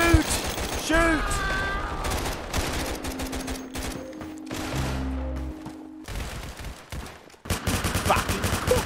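Gunfire in a Roblox shooting game, rapid crackling bursts mixed with game music tones and effects, loudest at the start and end, with a lull in the middle.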